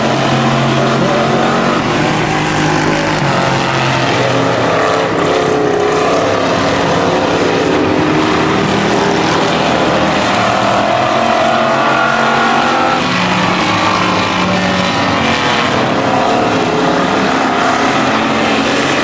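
250cc speedway motorcycles racing on a track, a dense, sustained roar of several engines at full throttle, rising and falling as the bikes pass, loud and continuous with no talk.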